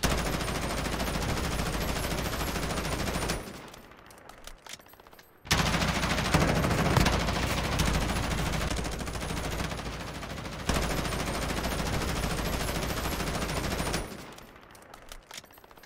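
Gunfire in the Modern Warfare video game with theatrical audio mode, dense, rapid automatic shooting in long sustained bursts separated by short, quieter gaps, sounding muffled and heavy, with no talking.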